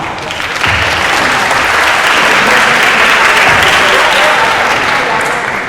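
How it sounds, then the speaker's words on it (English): An audience at a school competition session bursts into loud, sustained applause, a dense wash of clapping that holds steady for several seconds before beginning to ease. "Please give a round of applause to NAFA."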